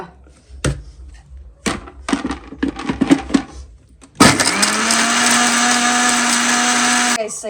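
Mixer grinder grinding watermelon rind into a paste with a little water: after a few knocks and clatters of the jar being set up, the motor starts with a loud, steady whine that runs for about three seconds and then cuts off.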